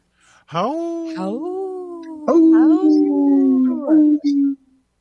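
People imitate wolves with their voices, letting out several long, wavering howls close to the microphone, rising and falling in pitch with short breaks between them and no other sound behind.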